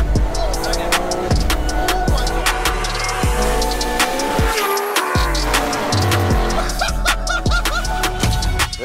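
A fully built four-wheel-drive Honda DC5 Integra Type R with a sequential gearbox runs loudly close by, its engine note rising and falling through sharp revs and gear changes, with brief clicks and tire-like squeals throughout.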